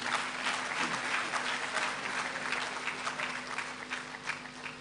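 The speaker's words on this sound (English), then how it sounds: "A better round of applause for him once again, ladies and gentlemen." Ladies and gentlemen at the onboarding and matriculation ceremony of the Adwumawura programme give a sustained round of applause, a thick, fairly distant clatter of many hands over a steady low hum.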